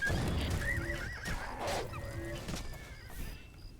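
A horse whinnies loudly in the video game Oblivion, a wavering high neigh over scuffling hooves and combat noise, followed by fainter whinnies.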